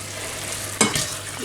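Food in a frying pan sizzles steadily, with two abrupt scraping stirs of a utensil across the pan, close and clear.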